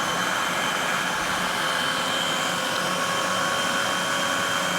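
Sweet pastry mixture of butter and almond meal being whisked quickly until it forms fine crumbles, a loud, steady, unbroken whirring roar that holds the same level throughout.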